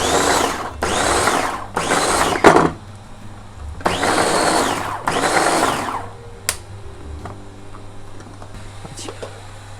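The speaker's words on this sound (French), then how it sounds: "J'ai jamais utilisé le mixeur donc je vais y aller doucement" Electric blender whirring through a Greek yogurt mint sauce in loud bursts, starting and stopping several times over a steady low hum, then quieter kitchen sounds.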